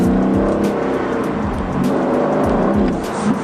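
A 2020 Aston Martin Vantage with a 500-horsepower AMG engine revs and pulls hard, its loud, rough exhaust note rising and dropping in repeated surges over about three seconds, heard up close with no talking.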